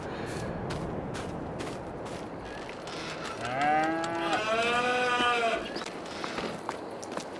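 Cattle in Farming Simulator 22 give a drawn-out moo in the middle of the clip, clear and close above a steady outdoor farm ambience with faint clicks.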